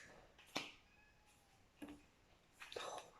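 Cats crying and meowing, a few short separate calls spread across the moment, faint and somewhat distant against quiet background hiss.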